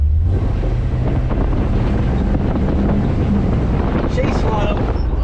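An old truck accelerates as the gas pedal is pressed, giving a loud, steady engine roar with wind buffeting across the whole stretch. A voice speaks briefly near the end.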